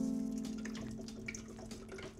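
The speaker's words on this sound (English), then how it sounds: "Pour in your developing chemicals." C-41 color film developer chemical is poured into about half a liter of water in a pitcher set in a sink, making a faint, steady liquid trickle with no voices.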